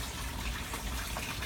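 Water pours and splashes steadily into the sump tank of a 1000-gallon backyard pond, a soft continuous gushing rush heard up close without talk.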